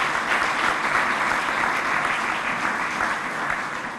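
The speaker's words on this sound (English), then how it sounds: "Give them a round of applause as well." Audience at a police district award ceremony gives a round of applause: loud, continuous clapping from many hands, even throughout and tapering a little at the close.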